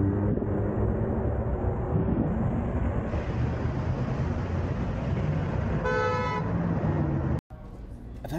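A car horn honks in a long steady blast over loud road traffic, then cuts off sharply near the end, with the dashcam street rumble continuing underneath.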